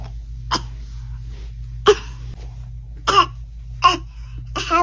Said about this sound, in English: I have a cough.